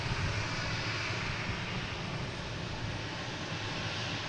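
KLM airliner climbing out on takeoff at Boston Logan, a continuous wide engine roar at steady loudness from start to finish, heard at a distance with no talking.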